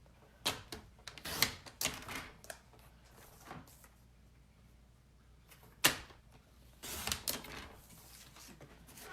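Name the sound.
trimming paper for card making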